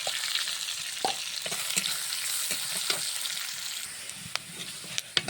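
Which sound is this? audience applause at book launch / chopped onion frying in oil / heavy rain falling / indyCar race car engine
chopped onion frying in oil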